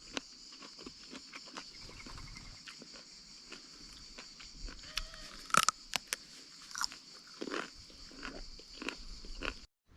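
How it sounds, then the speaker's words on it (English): Someone bites into thick, unpeeled raw courgette in a no-dig garden, giving faint, close crunches and wet chewing against quiet outdoor ambience, with a few sharper snaps midway. "Can you hear how crunchy it is?"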